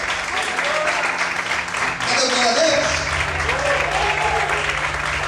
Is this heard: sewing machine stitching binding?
no